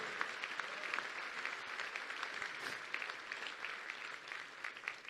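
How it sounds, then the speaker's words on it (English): An audience claps in a steady, dense round of applause at a talk, loud and continuous throughout with no voices over it. "a big round of applause for Admiral Jeremy Bourda."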